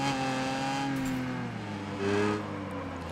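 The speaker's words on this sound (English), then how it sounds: "the V6 in this thing sounds great" A V6 car engine in the racing video game Gravel revs and drops as the driver brakes, with clear falling engine tones, a brief surge of revs near the end, and no talking.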